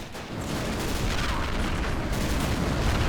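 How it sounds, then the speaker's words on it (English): Dense, sustained battle noise from Men of War: Assault Squad 2, with missiles and gunfire layered into a continuous loud roar of blasts and shots, no talking. "Missiles being flung everywhere."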